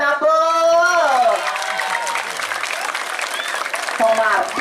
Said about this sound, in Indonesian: Tepuk tangannya dong buat penabur.